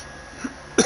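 A soldier coughs from gas in the WW1 video game Verdun: a faint throaty catch and then one short, louder cough right at the end, over quiet background noise.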